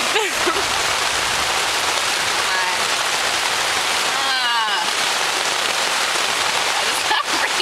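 Steady heavy rain patters on a tent fabric close by, a dense hiss of drops with faint voices underneath.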